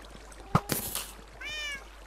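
A Minecraft cat gives a short meow among soft clicks and small game sounds, then a brief rising-and-falling meow follows, faint and close.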